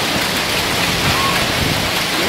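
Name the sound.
heavy rain and hail in Turin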